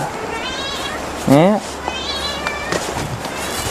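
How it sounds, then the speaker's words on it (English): A house cat lets out a loud, rising-and-falling meow lasting about a quarter second near the middle, set against quiet room tone with a brief spoken word. "that's my cat that you can hear"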